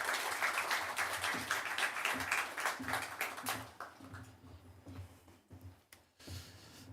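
A church congregation applauds during a thanksgiving service for moving into a new sanctuary, clapping fading after a few seconds into scattered claps and some murmuring.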